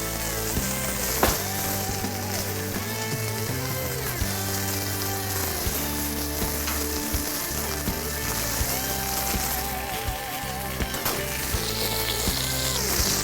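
Beef fat sizzling on a Blackstone griddle beside a tomahawk ribeye, a constant crackling fry with small pops and spatters, steady and close for the whole stretch.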